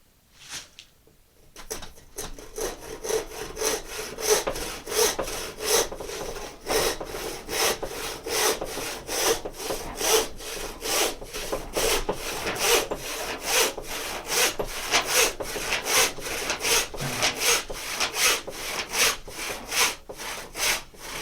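Hand saw cutting a block of wood to rough out a canvasback decoy, with steady back-and-forth rasping strokes in a regular rhythm, close and continuous for about twenty seconds.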